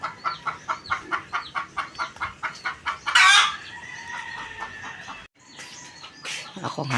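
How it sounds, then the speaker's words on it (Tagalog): Noisy farmyard chickens cluck loudly and close by in a fast, regular run of calls, then a rooster crows, followed by more scattered clucking. "Ingay ang manok."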